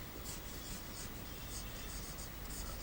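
Pen or marker scratches across a board during a lecture, a faint, continuous run of short rubbing strokes with brief pauses and no voice over it.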